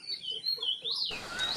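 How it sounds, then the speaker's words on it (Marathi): Golden oriole song: a sequence of clear, whistled phrases from a bird, fairly faint and at a moderate distance, with a brief burst of broadband rustle partway through. "सुंदर हळद्याचा असा स्वर ऐकून आम्हाला आश्चर्यच वाटले."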